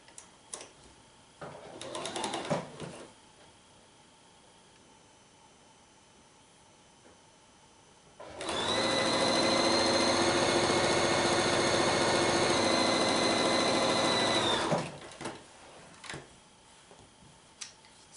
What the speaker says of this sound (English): I'll go ahead and sew another one of these together so you can see how those segments look.